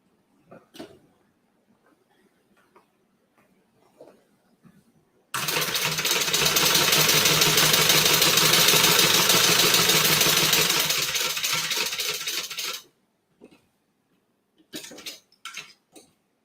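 A sewing machine stitches a crossbody bag in one loud, continuous run of about seven seconds, framed by quiet scattered clicks and handling taps before and after.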